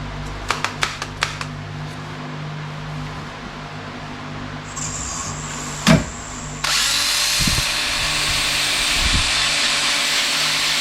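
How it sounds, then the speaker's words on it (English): A wood lathe spins yew wood at 750 RPM, starting after a few sharp clicks and a thump, then settling into a steady whirring hum with a brighter hiss from the cutting, close and constant. "The lathe speed is 750 RPM."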